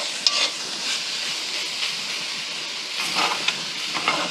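Hash browns sizzle in a hot cast iron pan while a utensil stirs and scrapes the bottom, a constant bright frying hiss broken by a few sharp scraping clicks.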